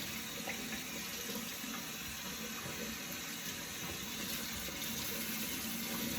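Hot water running from a household tap into a sink, a steady close hiss and splash with no pauses.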